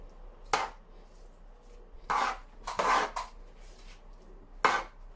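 A spoon mixes lemon rice in a pot, producing a few separate scraping, clinking strokes spaced a second or two apart, fairly close and clear, with no voices.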